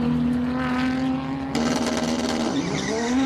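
A classic race car at the Simola hillclimb roars close by, its engine note climbing through gear changes with a sharp rise in pitch midway, loud and sustained without talk.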